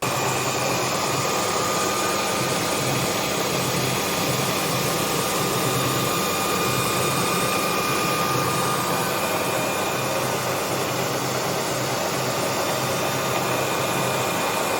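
A Parkside wood lathe runs continuously, giving a steady, even mechanical hum and whir that holds at a moderate level for about fifteen seconds with no talk.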